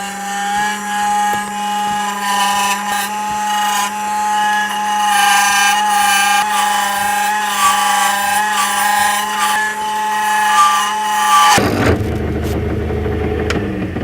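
A power drill spinning at a couple thousand RPM whines at a steady high pitch with rough grinding as it shapes wood for about eleven seconds, then stops, leaving a lower rumble.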